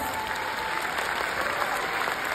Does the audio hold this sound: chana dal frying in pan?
no